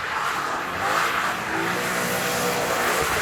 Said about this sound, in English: let's see how easy it is to do a donut in these cars